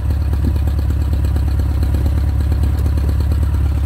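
A 1984 Volkswagen Transporter 78PS engine runs steadily at idle with a low, throbbing rhythmic pulse and light mechanical clatter, close and loud, with no talk.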